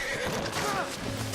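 Horse neighs in Red Dead Redemption 2 on a mountaintop, a short whinny rising and falling over a steady background of game ambience, fairly close and clear.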